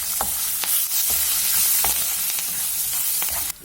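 Curry leaves and sliced green chillies fry in a hot pan with a steady close sizzle while a utensil stirs them, scraping in repeated short strokes.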